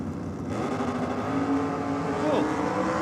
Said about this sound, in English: Turbo LS on board in the Commodore. Dialed in with a 1020. Taking on the carbureted Windsor in the Cortina for Jimmy Donaro